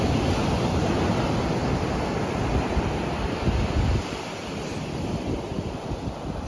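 A cold northerly wind blows outdoors at night, a steady, rushing roar of broadband noise that eases slightly partway through.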